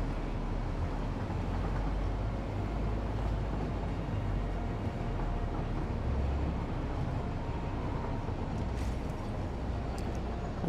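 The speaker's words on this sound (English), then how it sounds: "The train is slowing down" Train in the video game Satisfactory slowing down, a loud, continuous low rumble and rolling drone that stays steady, with faint high metallic squeaks near the end.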